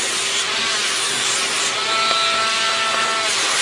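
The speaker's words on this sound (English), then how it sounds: "I'm going to go in and slightly Dremel each nail." A Dremel rotary tool grinds a dog's toenails, a steady, loud, continuous whirring buzz with no talking.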